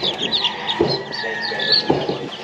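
Chicks and chickens at a game farm cluck and peep close by, with high chirping from the chicks over a couple of lower clucks from adult birds.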